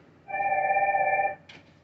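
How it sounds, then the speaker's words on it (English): Telephone ringing once, a single steady electronic ring of about one second, followed by a short faint click. "You getting a phone call?"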